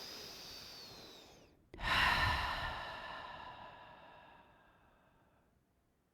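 A single long, audible breath during a yoga bind with a strap, a sharp inhale that fades slowly into a soft, drawn-out exhale in a quiet room.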